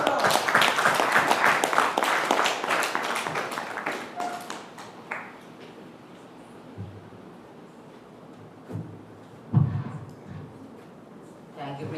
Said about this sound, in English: Please help me welcome Youth Leader Umar Abdullah with a thunderous round of applause.